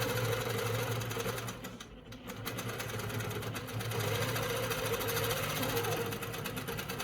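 A longarm quilting machine stitches across a jelly roll quilt with a close, steady rapid needle chatter that dips briefly before resuming at full speed.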